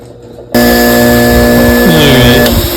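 A buffing wheel switches on and spins steadily and loudly while polishing a silver pendant, a sustained mechanical whine whose pitch dips briefly near the end under the load.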